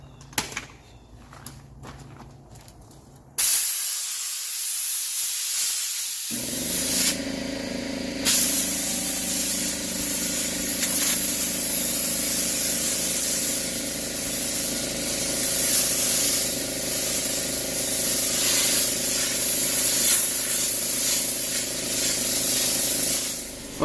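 Compressed air blows out the radiator of a 1978 motorhome. Quieter handling noises come first, then a loud, continuous rushing hiss that pauses briefly and resumes.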